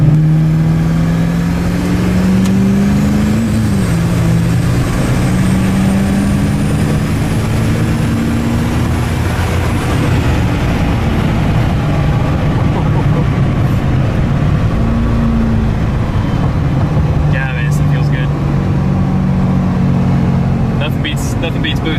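A 1200-horsepower diesel truck accelerates on a street, its engine drone rising and shifting pitch with a whistling turbo spool, loud and continuous from inside the cab while people talk over it.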